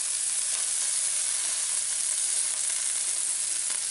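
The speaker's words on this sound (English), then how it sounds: "at this point now we will be adding leaves. So adding the leafy part." Kale leaves for a masala kale sabji hit a hot pan and sizzle steadily, a loud, close, even hiss of frying that holds without a break and has no voices over it.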